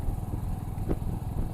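A Hunter 350 motorcycle rides along a road, its engine a steady low rumble mixed with wind noise throughout the brief stretch.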